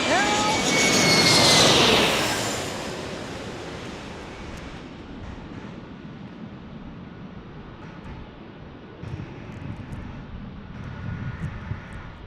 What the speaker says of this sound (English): E-175, Alaska Airlines landing right now.